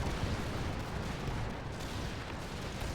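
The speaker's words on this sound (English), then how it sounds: "Actually, did they just fire their cannon?" Cannon artillery in a Total War strategy game battle for the Empire of Brazil in South America rolls as a continuous dense rumbling roar of distant overlapping blasts.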